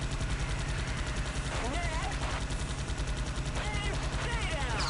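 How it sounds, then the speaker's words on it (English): Turret gunfire in Unreal Tournament 2004, a fast steady rattle of rapid shots, continuous and fairly loud, with a player talking over it. "guys can relax and think that this turret sound is soothing"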